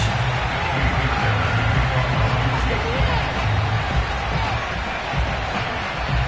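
A stadium crowd at a Buffalo Bills home football game against the Houston Texans roars as the team runs out of the tunnel, a dense steady wash of cheering under a broadcast commentator's voice.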